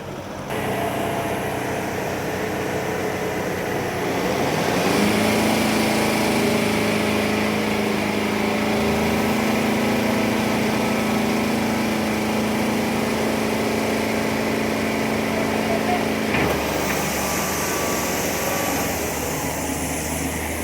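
Kubota and D Boss tractor engines run with a steady mechanical drone. The engine note swells and settles into a sustained hum about a quarter of the way in, then shifts lower toward the end.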